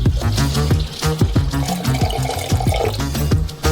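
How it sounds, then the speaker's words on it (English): Water is poured into a saucepan holding sugar in a continuous close splashing stream, with uneven gurgling pulses and no voices. "Pour 200 milliliters of water in"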